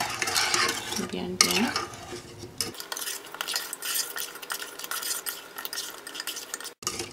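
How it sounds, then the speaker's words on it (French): A spatula stirs sugar into a chocolate mixture in a pan, giving scraping, clinking strokes with a faint sizzle, loudest and busiest at the start before settling into a steadier, quieter stir. "à l'aide d'une spatule, je vais tourner pour mélanger"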